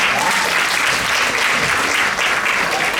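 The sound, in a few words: round of applause for performers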